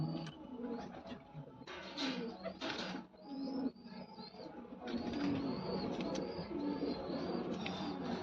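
Racing pigeons coo steadily amid bright bird chirps over a constant mechanical whir, with faint voices now and then.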